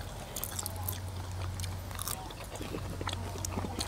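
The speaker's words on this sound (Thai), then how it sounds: "มันกรอบมันอ่ะ กรอบพอดีกินแตงเล็กอ่ะ" Crisp bites and crunchy chewing of fresh cucumber eaten with cooked shrimp salad outdoors by rice fields, a steady run of close, wet crunches with no talking.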